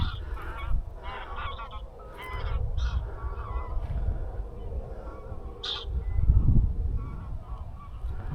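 Geese honk repeatedly in short bursts as they fly in during a November goose hunt in Germany, over a steady low rumble of wind, the calls fairly close and spread across the whole stretch.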